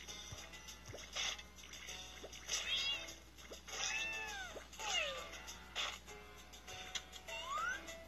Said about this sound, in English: I'm gonna call these cats Pachirisu